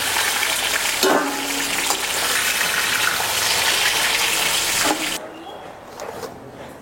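Baby corn lightly frying in oil for a malai curry, a loud steady sizzle with a brief clatter of stirring, then the hiss suddenly drops to a quieter crackle.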